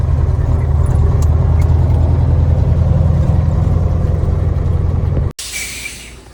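A car drives along a road with a steady, loud low engine drone and road rumble that cuts off abruptly near the end, leaving a quieter, hissy interior.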